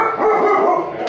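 A dog lets out a single drawn-out, whiny bark, close and fairly loud, ending in a brief rustle.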